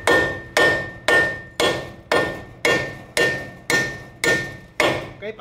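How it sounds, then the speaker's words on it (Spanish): Ten sharp metallic hammer blows strike a bolt on a Ford Focus control arm at a steady, even rhythm, loud and close, each ringing briefly before the next strike. "le vamos a dar con un martillo aquí en el tornillo para sacarlo"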